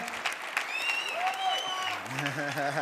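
Audience at a security conference talk applauding, steady clapping at moderate level with voices and whistle-like tones mixed in over the top.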